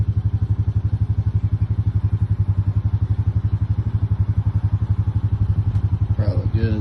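Massey Ferguson 1030 tractor diesel idling after a cold start, a steady, loud, rapid chugging beat close by, with a brief voice or clatter near the end.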